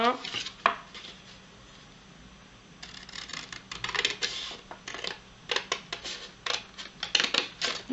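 Scissors cut through paper card for a handmade card box, giving a series of close, crisp snips in irregular bursts, with a quiet pause partway through.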